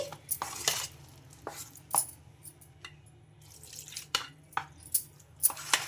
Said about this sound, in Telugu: కొద్ది కొద్దిగా పోసుకుంటూ బాగా పిండిని ఉండలేకుండా బాగా కలిపేసుకోవాలి